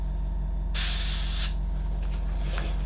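A single burst of airbrush or spray-can hiss while cleaning up Vallejo Metal Color acrylic paint, lasting under a second and close to the mic, followed by faint handling clicks and a low steady hum.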